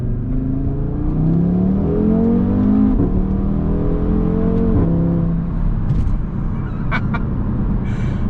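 A Porsche Cayman GT4 with a Fabspeed exhaust accelerates in second gear, its engine note climbing steadily in pitch through a loud, close, continuous pull, with a brief shift-like dip near the middle.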